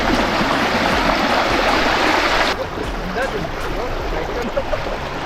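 Fast-flowing stream water at a crossing point rushes loudly and continuously, then drops to a slightly softer steady roar partway through.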